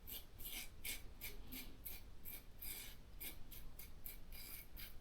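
A Gillette King C safety razor scrapes across a face in short, rhythmic rasping strokes, about a dozen quiet close passes with no talking.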